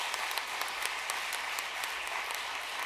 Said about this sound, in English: Please give a warm round of applause for Marla